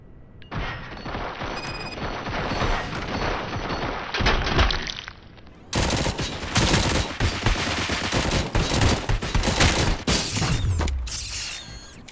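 Sustained automatic gunfire in the RoboCop: Rogue City video game, with dense rapid bursts and mechanical clatter, loud and continuous with a brief lull before a second heavy volley.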